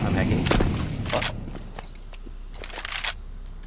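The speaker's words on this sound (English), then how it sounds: "Who's shooting my head?" Gunfire in Counter-Strike 2 sounds as a series of sharp gunshot bursts, some close and punchy and others thinner, spread over a few seconds with faint game background noise.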